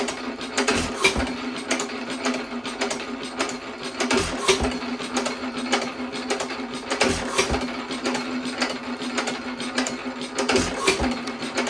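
A 1917 Economy hit-and-miss engine turns over slowly, with a steady mechanical hum and a recurring rhythmic chuff-and-clatter cycle every few seconds, close and alone.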